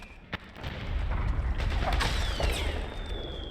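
A gun fires in Metal Gear Solid 4 with one sharp crack, followed by a steady low rumble and mechanical rattling that continue to the end.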